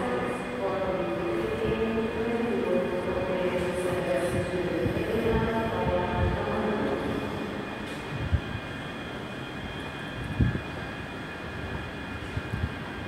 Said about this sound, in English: Coming in 385105, which is on a terminating service from Edinburgh Waverley via Falkirk Grahamston.